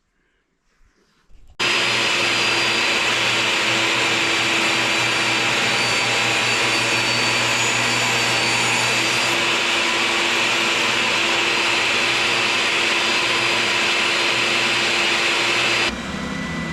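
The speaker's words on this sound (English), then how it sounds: "So I'll cut this edge off and this edge off right up to the walnut" A power saw trims the edges off a walnut end-grain cutting board, a loud, steady continuous whine running for about fourteen seconds, starting abruptly after a brief quiet moment and cutting off near the end.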